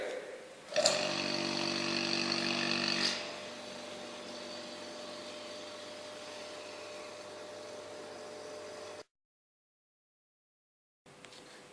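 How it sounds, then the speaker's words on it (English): A vacuum pump draws air out of a soil-water mixture in a volumetric flask during a soil specific gravity test. It starts with a loud burst, then settles into a steady mechanical drone, cuts out, and briefly resumes more faintly. "So the next step is to use the vacuum pump to extract the air."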